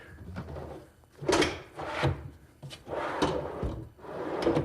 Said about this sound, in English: now it's time to put the extension slides on the drawers